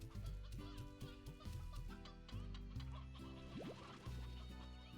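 Chickens in the Slime Rancher video game cluck in quick, repeated bursts, a close, steady run of clucking alongside the game's background music.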